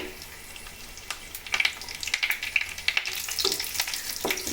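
Cashews and raisins frying in ghee in a pan, making a crackling sizzle that grows busier partway through, with clicks and light stirring taps up close.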